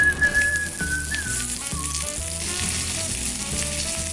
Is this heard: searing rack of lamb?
yes